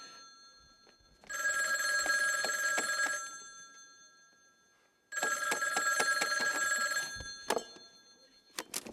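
An old-fashioned telephone bell rings in two long bursts of about two seconds each with a pause between, followed by a couple of brief knocks, in a theatre setting with no talking.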